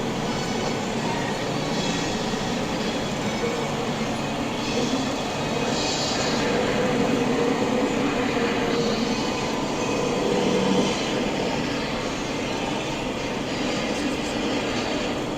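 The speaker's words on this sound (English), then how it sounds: "this tram only goes 8 miles per hour" A studio tour tram at Universal Studios Hollywood rolls along steadily at low speed, with a continuous rumble of wheels on track and occasional faint squeals, no talking over it.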